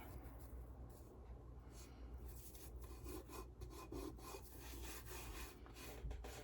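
Gold leaf being rubbed off a painting's surface by hand, a steady dry scratchy rasping that continues close up throughout with no talking.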